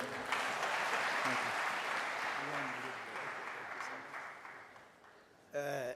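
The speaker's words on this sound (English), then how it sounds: "Another round of applause for our president." A crowd at a university student recognition ceremony in Nairobi applauds steadily for several seconds, the clapping slowly fading, before a voice begins speaking at the end.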